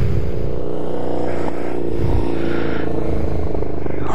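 A Kawasaki Ninja 300 motorcycle engine runs loud and close, its revs swelling and easing in a continuous throaty drone.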